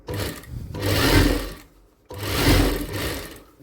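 A sewing machine top-stitches a folded strip on a designer blouse, running in two loud, close bursts with a brief stop between them and no talking.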